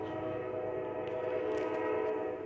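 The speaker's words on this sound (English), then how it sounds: "there's a train there." A train passes nearby, its steady rumble and sustained horn-like tones running unbroken through the whole stretch with no voices over it.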